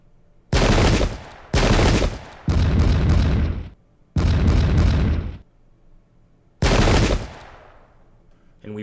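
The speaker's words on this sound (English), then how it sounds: "Yeah, give me some arty." Artillery volleys in the Pike and Shot strategy game, covering a 1691 battle between the Holy Roman Empire and Ottomans: five loud, broad booming blasts, each sustained about a second, separated by short quiet gaps.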